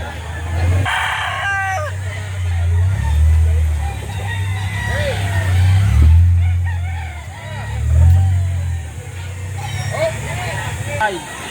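A nine-month-old Golden Boy sweater gamecock crows at a rooster market in Lipa City, Batangas, loud and close, with several long crows in a row over background clucking, traffic hum and people talking.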